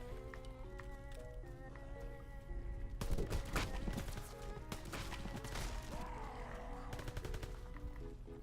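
Rapid bursts of gunfire from the World War II shooter game Call of Duty WW2 crackle over a steady game soundtrack, loudest from about three seconds on and repeating in quick volleys.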